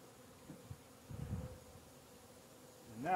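Honey bees hum around an open hive while it is being converted from Langstroth to Layens frames, a low steady drone swelling briefly closer before settling again.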